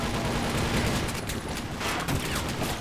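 Sustained gunfire in the video game TimeShift, a thick, continuous barrage of rapid shots at steady loudness with no pause throughout.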